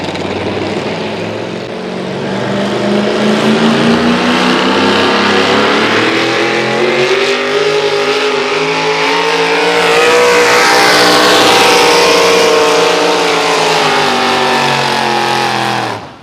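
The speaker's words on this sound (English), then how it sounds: "632 cubic inches of big block Chevy at the hook right now" A 632 cubic inch big block Chevy engine in a pulling truck at a truck pull, roaring loud and close as it climbs steadily in pitch under full throttle, then cutting off at the end.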